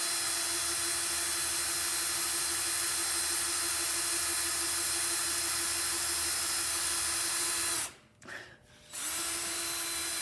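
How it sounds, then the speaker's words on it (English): A power drill boring a pilot hole into hard wood, a steady close whine running continuously for about eight seconds, then cutting out briefly before starting up again. "Now I'm going to drill the hole."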